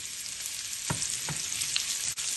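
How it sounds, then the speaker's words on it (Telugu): Amaranth stem pieces drop into a pan of hot tempering oil with mustard seeds, cumin and dried red chillies, bringing a steady sizzle with a couple of soft thuds and stirring, and no voices. "ఇప్పుడు కట్ చేసుకొని ఉంచుకున్న ఈ తోటకూర కాడలు ముక్కలు వేసేసుకుందాము."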